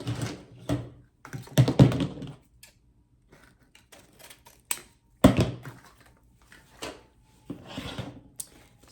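Scissors snip through ribbon while a Valentine wreath bow is trimmed, giving a few close, crisp cutting and rustling bursts separated by quiet gaps, with no talking over them.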